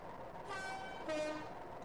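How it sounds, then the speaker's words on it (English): A two-tone diesel locomotive horn in the Train Simulator 2014 game, a fairly faint first blast followed by a second, stronger tone, held steady over a low rumble with no talk. "We've got the horn as well."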